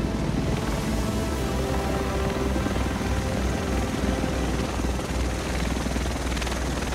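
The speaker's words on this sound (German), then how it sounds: "Der Rest von uns sitzt in diesem Heli." A helicopter arriving in the video game The Division: its heavy rotor thrum drones steadily and loudly throughout, with a low pulsing beat and broad engine noise.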